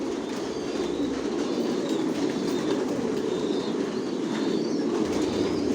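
Racer pigeons in a loft, a dense steady murmur of cooing with occasional wing flaps and rustling, fairly loud and continuous, no talk.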